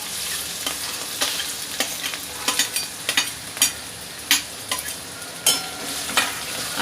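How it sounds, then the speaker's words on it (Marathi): Onion frying in a pan on low heat for Malvani-style kanda pohe gives a quiet sizzle broken by repeated sharp scrapes and clatters of stirring, a steady run of close, irregular bursts. "आता त्यामध्ये मी कांदा टाकते."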